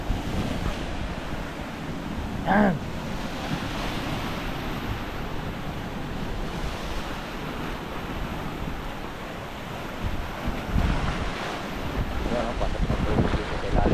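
Strong coastal storm wind roars with crashing waves near a hut by the sea, a steady broadband rush filling the whole span, with a brief voice near the start and some louder gusts toward the end.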